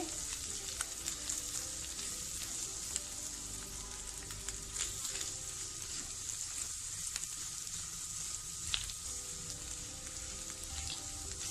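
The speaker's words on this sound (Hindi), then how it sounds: "अब हम इसमें डालेंगे 2 टेबलस्पून फ्लोर मैदा। इसको मिक्स करेंगे जल्दी जल्दी से।" Flour stirred into chicken filling cooking in a pan, a steady loud sizzle and frying hiss with faint scraping of the spoon throughout, no voices.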